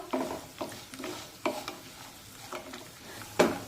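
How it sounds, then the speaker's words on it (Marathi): Onion is sautéed and stirred in a pan for vermicelli upma, giving a series of close, rhythmic scraping strokes every half second or so over a soft frying hiss, with no talking. "कांदा परतत असताना एकसारखं याला उलट असं हलवून घ्यायचं"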